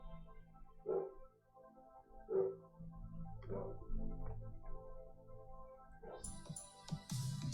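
A single dog barks in a series of about four spaced, moderately distant barks, heard faintly in a quiet room, followed by brief rustling and clattering noises at the end.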